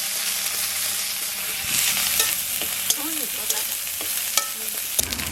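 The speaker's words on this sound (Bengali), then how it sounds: "এবার মশলাটা দিয়ে দিচ্ছি। এই আদাটা, জিরে বাটা" Ginger and ground cumin spice paste sizzles steadily in a pan for a magur fish curry, with scraping stirs and a few sharp clicks of the spoon over the continuous frying hiss.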